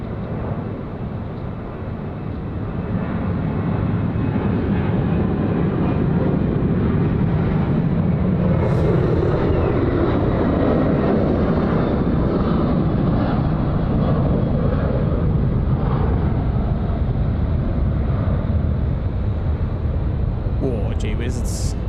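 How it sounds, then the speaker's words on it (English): Airliner taking off from runway 34 left at Sydney Airport, a loud sustained engine roar rising over the first seconds and holding steady with a broad rumble, heard from a distance. "Runway 34 left, clear for takeoff, velocity 640."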